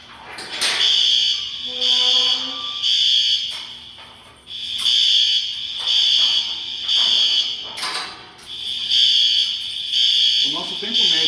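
A building fire alarm in an evacuation drill sounds as loud, shrill electronic tones repeating in long pulses with brief gaps, while people talk nearby.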